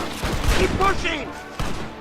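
Gunfire in the Western video game Red Dead Redemption, a rapid volley of shots and thuds during a battle, with someone shouting commands over the shooting.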